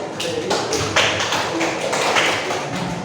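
Students in a classroom applaud a student group, a burst of close, dense clapping that continues evenly for a few seconds with no talk over it.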